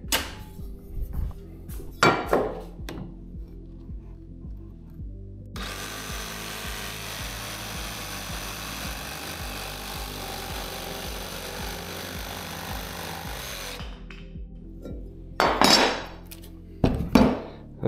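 DeWalt XR cordless jigsaw cutting freehand through wood, a steady buzzing rasp lasting about eight seconds, framed by clunks and handling knocks before and after.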